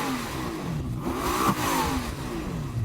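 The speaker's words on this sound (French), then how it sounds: "Avant, faisons un test sonore. Voyons laquelle sonne le mieux. Fais monter le régime, Marc." A supercar engine, a Lamborghini Temerario or Ferrari SF90, revs hard up and down at close range, a brief loud burst of rising and falling engine pitch.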